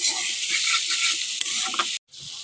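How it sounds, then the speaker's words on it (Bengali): Potatoes fry with cumin and chilli powder in a pan, a dense crackling sizzle with scraping stirs, then a sudden brief silence before the frying resumes more quietly. "এটাকে আমি ভালো করে কষিয়ে নেব"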